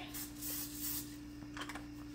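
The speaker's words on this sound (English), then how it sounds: "We going to put the spray, so I don't want too much of fat. So it's canola oil spray" Canola oil cooking spray hisses from an aerosol can into a pan, a few seconds of soft continuous spraying with brief broadband bursts over a steady kitchen hum.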